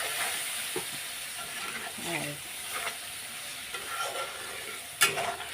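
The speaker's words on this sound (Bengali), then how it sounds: "তো নাড়াচাড়া দিয়ে নিচ্ছি, একটুখানি কষিয়ে নেব" Ghugni masala sizzles softly in a pan while a spoon stirs and scrapes through it, with occasional clinks and one sharper knock near the end, heard up close at low volume.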